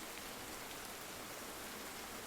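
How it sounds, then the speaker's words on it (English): Rain falls steadily in a continuous broadband hiss, even and moderately soft with no breaks, and no voices over it. "Enjoy the sound of the rain."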